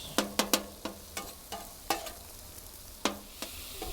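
Rice stirred and frying in residual pork fat, with sharp repeated scraping strikes of a utensil over a steady soft sizzle, close up, no talking.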